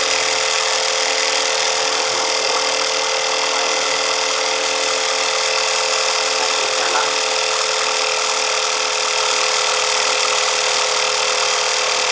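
A generator engine runs at a steady, loud, unbroken drone throughout, with no talk.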